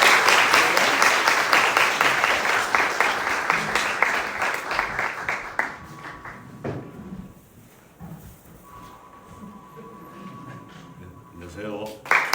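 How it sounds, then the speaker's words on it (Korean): A church congregation applauds to welcome a speaker at a Thanksgiving service, with rhythmic, fairly loud clapping that thins out after about five seconds into scattered taps and quiet room noise. "우리 박수로 한번 환영하실까요?"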